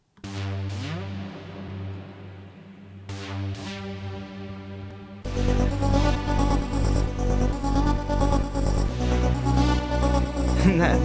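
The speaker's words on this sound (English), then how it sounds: "We're going to click mono here and give some porta time." Mono synthesizer with filter envelope and portamento glide, notes whipping up toward a high top note, played alone at first and then under a full, loud beat that kicks in partway through.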